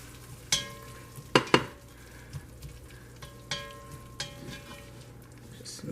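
Cooked chicken mixed in a pan makes a quiet background sizzle broken by several sharp clanks and scrapes of a utensil against the pan, sparse and irregular, no speech.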